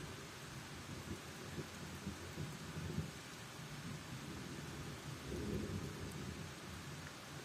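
Thunder rumbles and resonates through a mountain valley during a trek in the Vallée d'Ossau, a faint distant roll under steady rain, swelling briefly near the end with no voices.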